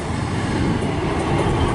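A two-coach Class 150 passenger train rushes by close at hand at Barry Docks, a steady loud roar of rolling wheels and rail noise.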